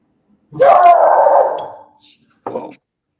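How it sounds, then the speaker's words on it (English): A dog barks loudly and close in an apartment, giving one long, drawn-out bark, then a quieter short yelp after a brief pause, and silence follows. "Whoa. Doggo."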